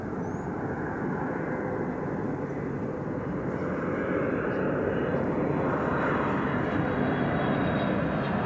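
An airliner flying at DFW Airport, arriving from Tokyo Haneda, gives a steady, loud broadband jet roar that holds evenly throughout.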